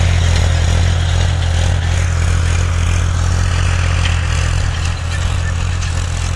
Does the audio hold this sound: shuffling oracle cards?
no